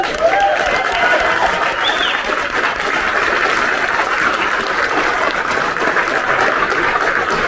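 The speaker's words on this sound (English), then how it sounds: "Please, another huge round of applause." A large audience at a youth awards ceremony claps in a steady, loud wash of applause that continues unbroken, with faint cheers mixed in.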